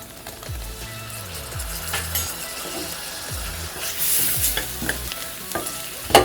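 Tomatoes sautéing for hotel-style dhal curry, a steady close sizzle in hot oil broken by repeated spoon scrapes and stirring clatter against the pan.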